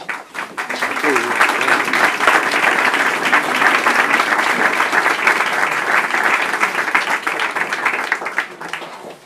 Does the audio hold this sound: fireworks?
no